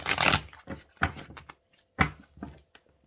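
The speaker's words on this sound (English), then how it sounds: "Let's go ahead and shuffle." Several short bursts of cards being shuffled and riffled close by, separated by brief pauses in a quiet room.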